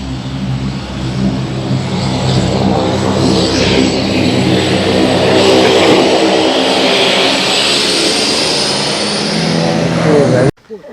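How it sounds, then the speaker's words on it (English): A steady, loud propeller aircraft engine roars throughout on the runway at Kaieteur Falls, Guyana, with some wind and faint voices underneath, cutting off abruptly at the end. "There's another plane that just touched down."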